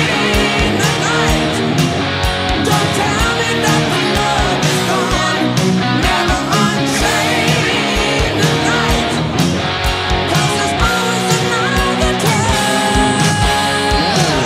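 Distorted electric guitar plays the chorus of a song in dense, continuous chords at a steady strong level, with no gaps and no voices.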